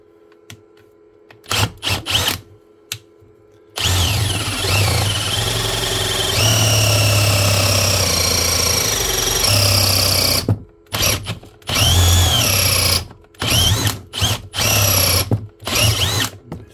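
A Hikoki hammer drill drives an earth electrode rod, first in a few short bursts, then in a long steady loud run of hammering, followed by several more short bursts with pauses between.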